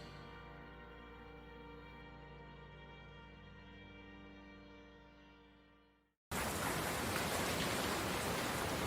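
Heavy rain sound effect in a spoken horror story, a steady dense hiss of downpour filling the background, fading out at about six seconds, then returning loud and broadband without any voices.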